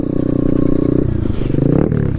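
A Taotao DB17 dirt bike engine runs steadily under load during a top speed run, its loud, continuous buzzing drone dipping briefly before picking back up.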